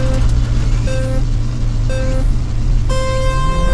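A Toyota 86 idles in the FR Legends racing game with a steady engine drone. Repeated electronic beep tones play over it, and the engine pitch rises slightly at the end.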